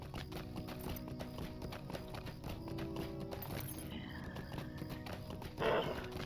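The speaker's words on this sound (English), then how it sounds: "We don't need to be running over everybody with our horse." Horse hooves clip-clopping in the online game Lord of the Rings Online, a steady run of rhythmic hoofbeats with game music and a brief whinny-like burst near the end.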